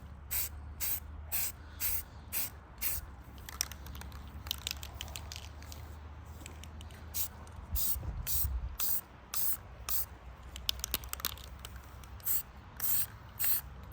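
Short bursts of aerosol spray paint laid down as a light base coat on a gun, repeated hisses with brief pauses between them, close and fairly loud, with faint handling noise underneath.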